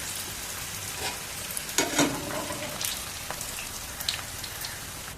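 Peanut pakodi fries in hot oil, a soft, continuous crackle like light rain with scattered small pops and a few louder bursts, with no voices.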